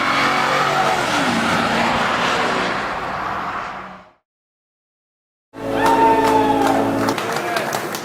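A Ford Crown Victoria, a 1.8-tonne sedan with a V8 SOHC engine, accelerates hard with a loud, rising engine note that cuts out abruptly, falls silent for about a second and a half, then resumes revving strongly.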